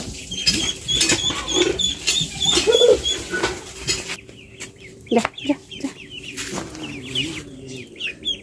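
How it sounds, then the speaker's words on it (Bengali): Ducks herded outdoors in a village yard make scattered clucks and quacks amid rustling footsteps and movement, with faint voices in the background. "হাঁসগুলানকে অনেক কষ্ট করে দৌড়িয়ে মায়ের কাছে নিয়ে আসলাম।"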